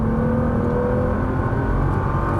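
A Nissan GT-R revs hard as it accelerates around a race track in Las Vegas. The engine note is a steady, loud drone that runs throughout without pause.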